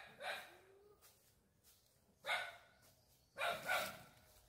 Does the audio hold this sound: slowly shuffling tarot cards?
no